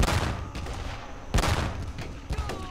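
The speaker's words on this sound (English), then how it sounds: "At least now they're dropping mortars on their own men." Mortar rounds and gunfire in the Korean War video game Theatre of War 3: Korea, with two heavy blasts about a second apart, each trailing into a crackling rumble of background battle at moderate distance.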